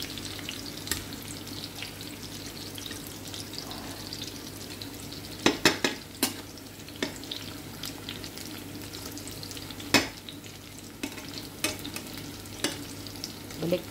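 Peeled camote sweet potato pieces frying in a pan, a steady soft sizzle with occasional sharp clinks and scrapes of stirring, close and without talk.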